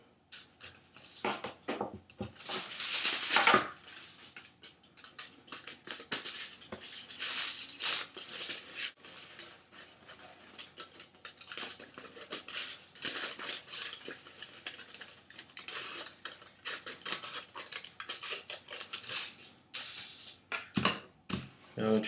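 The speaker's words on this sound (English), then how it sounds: "Then you want to take your scissors and cut that out." Crinkling and snipping of foil as scissors cut through it, in irregular bursts, close and fairly quiet.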